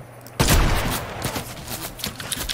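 Video game gunfire, loud and close, opens with a sharp burst and then runs as a rapid string of repeated shots of uneven strength.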